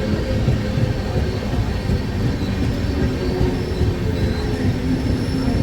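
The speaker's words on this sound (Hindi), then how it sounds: "12 मिनट डिले के साथ में 8:44 पे पहुंची है ट्रेन।" The Ajmer Shatabdi Express rumbles into Alwar Junction, a loud steady roar of wheels and carriages close by with faint squeals and rhythmic clatter throughout, no voices.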